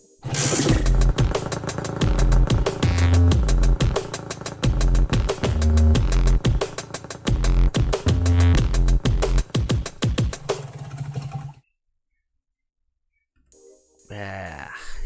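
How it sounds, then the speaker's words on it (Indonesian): Rhythmic music pounds with beats and bursts resembling revving motorcycle exhaust, loud and punchy, ending in sudden silence before a short return. "jadi kayak mix lah antara suara knalpot sama musik yang enak"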